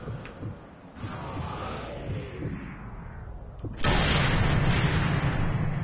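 Gunfire from a sniper rifle in the World War II shooter game Sniper Elite III, with a sharp shot at about four seconds that leads into a loud, sustained rumbling roar over an earlier muffled game ambience.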